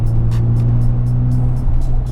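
A 1999 Mazda RX7 FD RS with its turbocharged rotary engine, heard from inside while driving, a loud steady low drone holding constant with faint repeated ticking above it.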